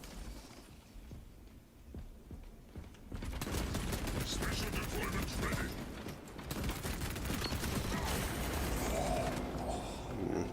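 Bolt carbine gunfire in the Space Marine 2 multiplayer game, quiet at first then dense rapid bursts of shots with mechanical clatter that continue loudly, with someone talking over it.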